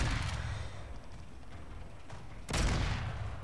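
A sniper rifle fires in a video game, with a sharp blast at the start, a loud second shot later on, and boomy gunfire rumble in between.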